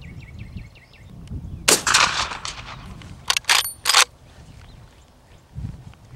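A Marlin Model 1893 rifle chambered in .38-55 fires on a steel target at distance: one loud sharp report, then a tight cluster of sharp cracks and impacts, each fading into open-air quiet, with no talking.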